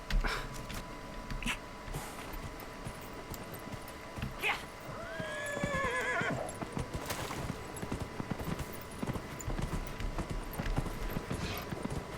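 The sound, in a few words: horse neighing and hooves in video game Dragon Age: Inquisition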